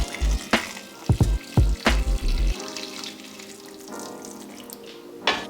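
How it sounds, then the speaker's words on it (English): Water runs and splashes into a pot of curry goat as it is made Jamaican style, a steady pour with a few louder thuds and clunks near the start, close and fairly loud, no talking. "Then we're going to add some water."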